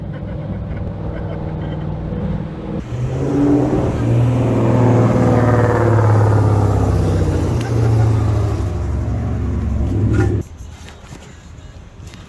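A Dodge Charger R/T with a loud aftermarket exhaust revs hard, its deep droning engine note climbing and holding for several seconds before cutting off abruptly, with talk inside the car.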